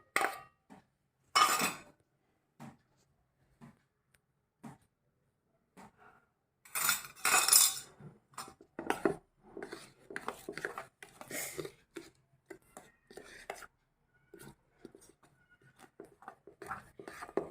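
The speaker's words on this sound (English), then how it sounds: "Add maida and baking soda and mix it well." Maida and baking soda being mixed in a bowl, sparse clinks and scrapes of a spoon against the bowl, then a busier run of quick tapping and stirring strokes, close with quiet gaps between.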